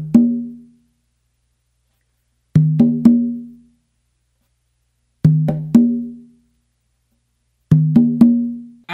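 Conga drum playing a yambu pattern, three short groups of two or three hits each: a light finger tap leading into ringing open tones, with clear silent gaps between groups and no talking.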